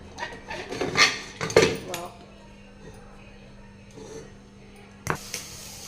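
Metal clanks and clinks from lifting a cake pan out of a pressure cooker, a few close knocks in the first two seconds and another at five, with quiet room noise between.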